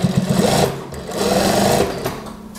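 A sewing machine stitches a pocket onto a house dress, its fast mechanical whirr running in two bursts with a short pause between, close and loud.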